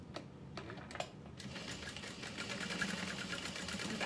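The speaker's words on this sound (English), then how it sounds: "I'm gonna sew down the center of the fold" A sewing machine stitches along the center fold of a handbag strap, starting after a few clicks and then running in a steady, fast mechanical whir, near and moderately loud.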